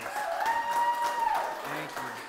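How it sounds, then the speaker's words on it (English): Brief applause at a poetry slam in Prescott, heard under and around a voice speaking into the microphone, moderately loud and short-lived. "Round of applause for yourselves."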